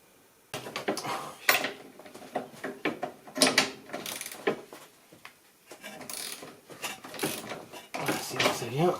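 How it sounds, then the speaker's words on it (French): A ratchet with an extension and a 19 mm socket works loose rear suspension arm bolts on a 2006 Mercedes C200, giving repeated bursts of metallic clicking and clanking at close range with brief pauses between strokes. "j'ai un cliquet, une rallonge et une douille de 19 qui fait le tour"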